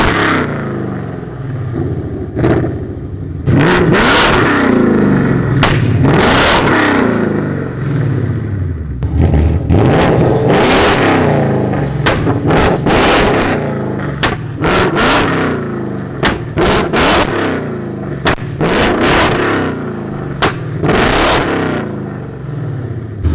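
A Mustang GT fitted with a flamethrower kit revs hard again and again, loud close engine roars broken by sharp pops and crackles from the exhaust.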